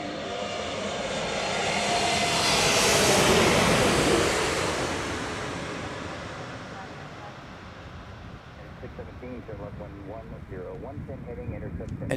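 Lufthansa Flight 430 from Frankfurt, wearing the 100-year anniversary livery, passes at Chicago O'Hare, its engine rumble swelling to a peak then fading into steady background noise.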